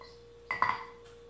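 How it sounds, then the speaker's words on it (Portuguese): A spoon scrapes oat bran and apple cake batter from a bowl, making one brief, close, ringing metallic scrape and clink, followed by a faint tap in an otherwise quiet room. "Então eu vou raspar a colher aqui."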